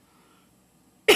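A single short, sharp throat clear or cough close to the microphone, bursting out abruptly after near silence.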